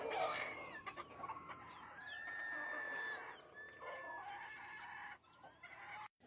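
A flock of chickens clucks continuously outdoors, with overlapping calls and a few drawn-out, crow-like notes, at moderate distance and fairly quiet.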